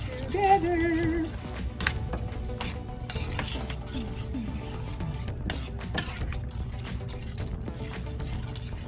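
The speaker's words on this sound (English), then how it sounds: "And I'm going to stir this up" A spoon stirs creamy garlic chicken legs in a pan, giving soft scraping and light bubbling with occasional clinks against the metal, quiet and close, broken by brief louder knocks.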